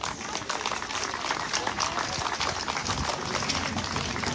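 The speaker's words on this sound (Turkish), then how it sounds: "sizlerden onlar için bir alkış rica ediyorum" Audience clapping at the opening ceremony of Kumyalı Beach in Karamürsel, a Blue Flag beach: steady, moderately faint applause from a crowd outdoors, continuous over the whole stretch.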